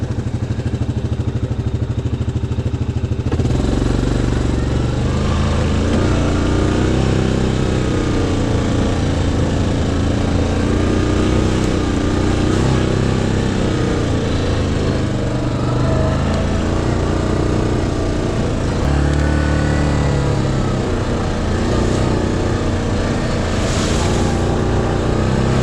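A Grizzly 700 SE ATV engine runs steadily in four-wheel drive on a trail, a loud, continuous droning rumble close by with slight rises and dips in revs throughout.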